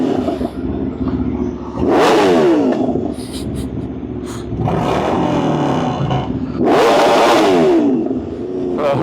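A car launches with a two-step while racing a GTR on a street. It gives loud, close engine revs in two sharp rising bursts, with a steady idle rumble between them.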